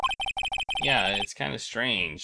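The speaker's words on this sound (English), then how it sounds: "I heard a phone ring just now" A quick electronic phone ringtone from the Phoenix Wright: Ace Attorney game plays as a rapid run of short beeping notes, then a voice starts talking right after.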